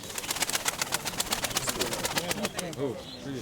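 Pigeons coo at a bird fair in Pavlohrad, their low throaty calls mixing with a rapid run of fluttering or clapping bursts and nearby people talking throughout.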